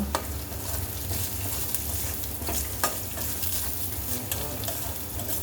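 Onions fry in a pan with a little salt until red, producing a continuous close sizzle broken by occasional crisp pops and stirring scrapes, with no voices.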